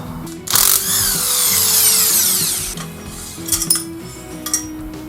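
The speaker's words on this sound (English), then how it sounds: "I'll use the power tool to loosen it" A power tool whirs up loudly at close range for about two seconds, loosening a Yamaha motorcycle front fork with a T-shaped tool, followed by metallic clinks and rattles of parts.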